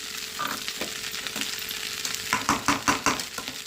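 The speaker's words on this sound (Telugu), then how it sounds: "హై ఫ్లేమ్లో పెట్టుకొని ఒక రెండు నిమిషాలు వేయించుకుంటే సరిపోద్ది" Leftover cooked rice fried as fried rice on a high gas flame, a steady close sizzle with a run of sharp scraping stirs toward the end and no one talking.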